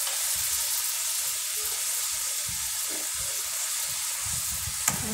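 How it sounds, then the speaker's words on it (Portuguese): Chicken placed in a hot pan gives a steady, close frying sizzle that runs evenly throughout, with a brief sharp tap near the end. "Coloca o frango na panela com muito carinho."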